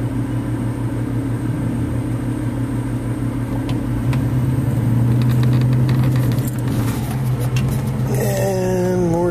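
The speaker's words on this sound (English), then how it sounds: "And more traffic." Road traffic heard from inside a vehicle driving through Iguala, Mexico, a steady low engine drone with passing vehicle noise, loud and continuous, a rising tone near the end.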